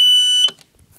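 An old elevator's door chime or alarm-like buzzer sounds loudly and steadily for about half a second, cuts off with a short clunk, and is followed by quiet room noise as the door moves.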